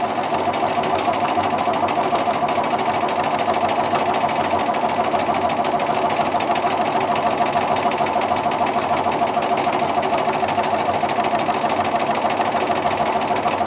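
A sewing machine quilts checkerboard grid lines, its needle motor buzzing in a fast, unbroken rhythmic chatter that stays steady and close for the whole stretch, with no voices.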